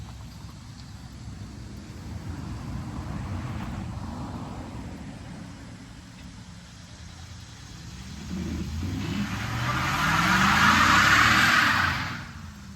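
A 1999 GMC Sierra pickup doing a burnout in first gear, tow/haul mode, at quarter throttle: steady engine rumble swelling into a louder rev and tire roar near the end, then easing off.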